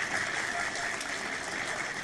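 Steady, dense applause from an audience, a broad continuous clatter of many hands clapping at an even level throughout.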